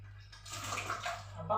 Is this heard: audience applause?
no